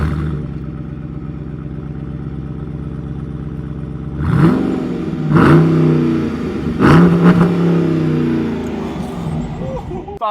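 A 2023 Dodge Durango SRT 392 V8 idles with a deep rumble, then barks through three sharp revs, each blip swelling and falling back, loud and close.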